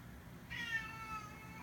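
A cat gives a single drawn-out meow, fairly faint against a low steady background rumble, with no talking.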